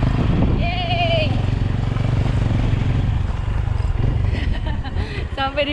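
Motorcycle ride carrying a passenger up toward the Piong trailhead on Mount Tambora, a steady loud engine drone filling the whole stretch, with people speaking over it near the end.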